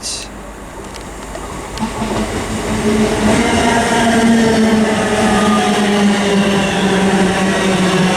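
A two-unit ScotRail Class 385 electric train pulls into Stirling station, its loud rumble and rising motor whine building and holding steady as the carriages roll past close by.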